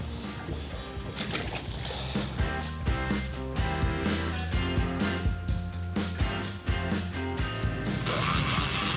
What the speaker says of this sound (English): I've got it engaged, that's why you hear that ratchet going around.